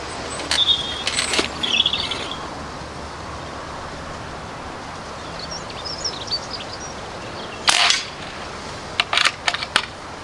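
An Aselkon Ravello RX6 air rifle firing 4.5mm pellets at a target, several sharp, short reports spaced irregularly over steady outdoor background noise, with faint birdsong.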